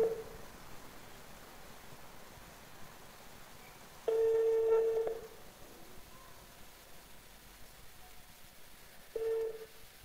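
Dialing tones sound from a telephone as a call is placed, with short tone bursts at the start, a longer run partway through and a final brief tone over faint background hiss.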